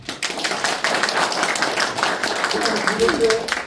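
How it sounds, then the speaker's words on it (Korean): Audience clapping at a lecture hall gathering, dense, fairly close hand claps filling the room throughout, with a brief voice surfacing near the end. "우리 박수 한번 해주십시오."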